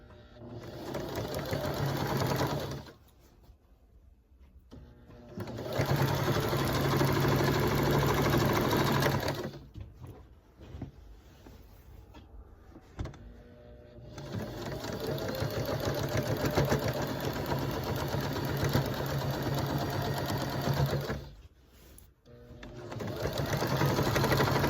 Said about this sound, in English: I'm going to take it back to the sewing machine and I'm going to sew